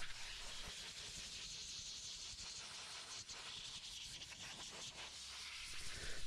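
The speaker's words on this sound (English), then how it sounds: "I then like to follow up with forced air to help me with any remaining moisture." Forced air blows through a car interior to dry leftover moisture during detailing. It makes a steady, fairly faint hiss that runs unbroken for several seconds, with no voices.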